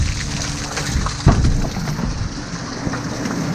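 Rain and snow fall steadily on a farm as cattle are fed, a dense, loud wash of patter and hiss close by with a brief thump partway through and no voices.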